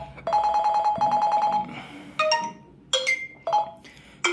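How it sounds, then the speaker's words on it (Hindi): Several ringtone previews chime from an iQOO Z6 44W smartphone, first a repeating electronic bell-like melody, then short bright tones cut off one after another as options are cycled, loud and close with no talking. "यहाँ से आपको डिफरेंट डिफरेंट टाइप की जो है रिंगटोन देखने के लिए मिल जाएगी।"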